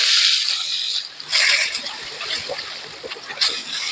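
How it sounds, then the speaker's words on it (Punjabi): Cumin seeds and two medium onions dropped into hot melted butter for egg bhurji give a loud, steady sizzling hiss that flares briefly as they hit the fat. "ਹੁਣ ਇਹਦੇ ਵਿੱਚ ਪਾਵਾਂਗੇ ਜ਼ੀਰਾ ਤੇ ਨਾਲ ਪਾਵਾਂਗੇ ਦੋ ਮੀਡੀਅਮ ਸਾਈਜ਼ ਪਿਆਜ਼"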